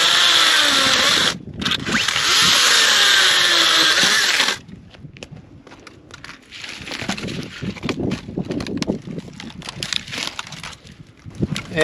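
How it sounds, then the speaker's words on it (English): A power saw whines loudly and steadily while cutting dead tree limbs into firewood, briefly dipping near the start, then stopping after about four seconds; wood clatters, snaps and thumps nearby afterward as the cut pieces are handled. "I'm gonna go out and cut some of these limbs and stuff around here and trim some of this dead wood"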